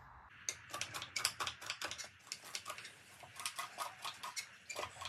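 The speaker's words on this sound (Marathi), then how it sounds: "हे बघा चाकूनी कट करतो आता." A knife chopping cabbage finely in a home kitchen, rapid close cuts landing in an even rhythm against a board, running steadily throughout.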